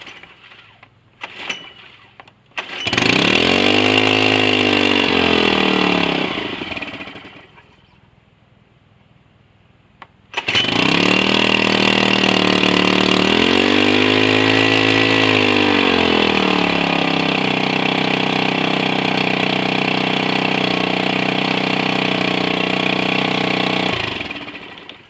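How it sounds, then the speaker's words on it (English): A small two-stroke motor with a centrifugal clutch and no gear shift makes a cold start after a few tugs. It buzzes loudly, revs and falls back, dies, then restarts and runs at a steady, raspy roar before shutting off. "I haven't had the motor running yet today, so this is a cold start."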